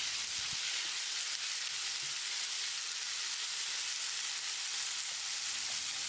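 Two chopped medium tomatoes added to softened onions in a pan for raw banana masala curry, giving a steady, close, even sizzle with no voices.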